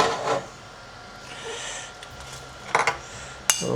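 Chopped pieces of cooked chicken, taken off the bone, are dropped back into a pot of Chinese chicken and corn soup, giving a few clattering knocks and scrapes against the pot in a quiet home kitchen.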